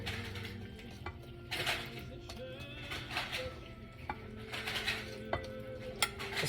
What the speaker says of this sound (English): Okay, you do this and you just start mixing it.